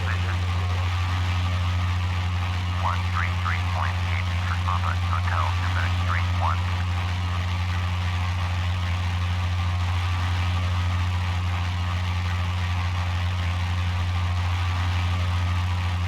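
A steady, loud drone from a light aircraft's engine climbing out after takeoff in Flight Simulator X, an unbroken hum that runs throughout as a voice talks over it.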